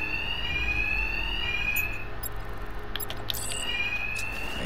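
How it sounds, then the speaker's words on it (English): In the Batman: Arkham Knight video game, a shrill electronic alarm wails in repeated long, rising tones over a steady low rumble, broken by scattered sharp clicks and impacts. "Attacks will be covered by the noise of the alarm."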